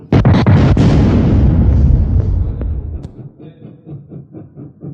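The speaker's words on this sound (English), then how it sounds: "One of those bangs and cloud of smoke." A joke-shop banger going off with a cloud of smoke in an animated story, a burst of loud rapid bangs that rolls into a rumbling decay, followed by fainter rhythmic pulsing.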